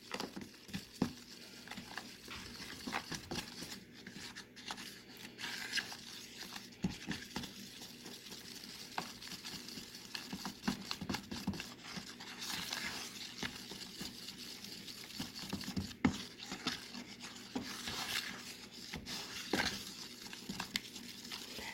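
A homemade gesso mixture is stirred steadily in a container, soft gritty scraping and wet patter repeating in an uneven rhythm, quiet and close with no voices.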